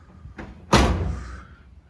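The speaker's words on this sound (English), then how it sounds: "I'm closing the door." The door of a 1972 Dodge Challenger fitted with new roof rail weather strips shuts with one solid, close thud, preceded by a faint click and followed by a short fading resonance.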